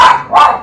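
Two quick, close dog barks in succession, high-pitched and loud, with nothing else around them.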